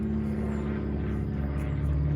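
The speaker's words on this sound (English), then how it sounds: "There's a plane flying overhead" A propeller airplane passing overhead, heard as a steady, droning engine rumble with a low hum that holds evenly throughout, with no voices present.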